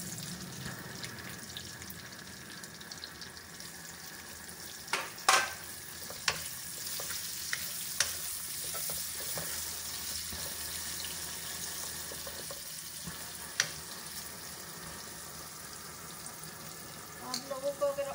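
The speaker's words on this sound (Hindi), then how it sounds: "अब हम उसी ऑयल में प्याज ब्राउन करेंगे।" Onions browning in the oil left over from frying eggplant and potatoes give a steady low sizzle, broken by a few sharp clinks and scrapes of a utensil against the pan.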